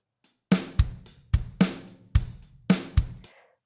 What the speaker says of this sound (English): So you can have Kyle for pop rock, which would sound like this,